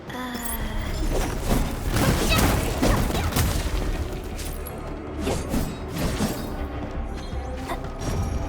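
Explosions in the video game Arknights: Endfield, heavy booming blasts layered with clanking, crashing debris and mechanical rattles, loud and dense over a busy game soundscape.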